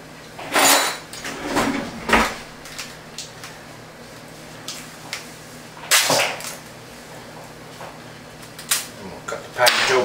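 Metal kitchen utensils clatter and jangle in a few sharp bursts as someone rummages for a small knife while preparing a blonde lager homebrew, with quieter shuffling between the clattering.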